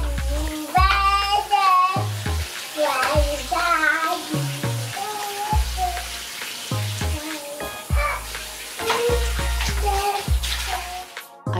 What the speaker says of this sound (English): I start by saturating her hair with water